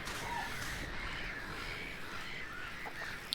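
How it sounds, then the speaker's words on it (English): Crows cawing as they pick at flesh in Minute of Islands, a few scattered harsh calls over a constant windy or watery noise bed, fairly distant and faint, with no voices. "Look at these birds just grabbing at the flesh."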